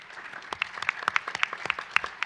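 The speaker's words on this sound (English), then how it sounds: "please, round of applause" Sparse audience applause at a UCLA Luskin talk on demography and redistricting, with scattered distinct claps, fairly thin and brief rather than a full ovation.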